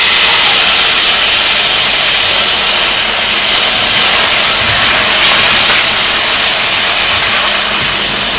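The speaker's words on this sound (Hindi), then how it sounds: "चिकन को मैं मीडियम लो फ्लेम पे मैं इसको फ्राई कर रही हूँ।" Chicken strips fry with garlic and ginger in a pan over a medium-low flame. A loud, dense sizzle hisses continuously and close, without letup.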